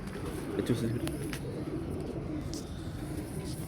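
A pigeon coos softly in low, throaty bursts, with people talking in the background.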